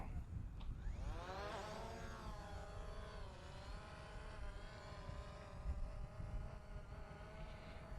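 A small drone starts up and lifts off, its propellers whining and rising in pitch, then holding a steady buzzing hum as it flies at moderate distance, quiet and continuous.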